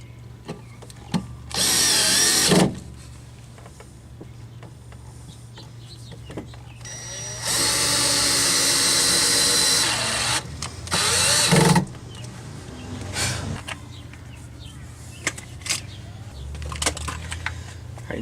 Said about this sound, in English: take a stepper bit or a drill bit and drill a couple places out that are a little larger